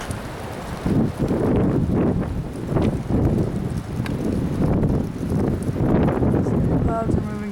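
Strong gusts of roughly 50 mph buffet the microphone outdoors, rumbling and roaring in uneven surges with rustling throughout, no voices.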